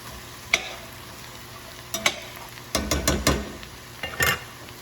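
Spices toast in hot oil in a pan for an emu goulash, giving a soft steady sizzle with several sharp scraping stirs and knocks clustered through the middle, close and fairly loud, with no talking.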